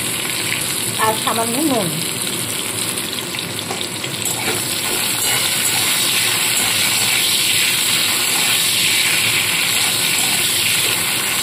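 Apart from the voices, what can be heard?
frying drumstick stalks in oil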